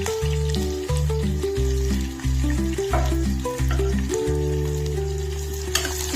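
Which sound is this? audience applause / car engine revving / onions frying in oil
onions frying in oil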